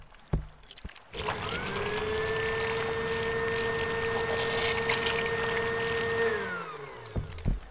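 A cartoon vacuum machine on a boat starts up and runs with a steady whining, sucking drone as it pulls up ooze, then winds down after about six seconds.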